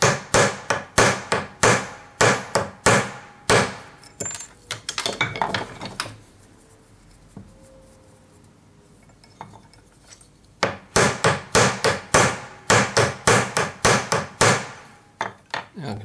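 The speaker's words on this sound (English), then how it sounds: "So back on the anvil again." A hammer strikes metal on an anvil while a faceted stone pendant is forged, a fast rhythmic series of sharp close blows that pauses for several quiet seconds before resuming in another steady burst.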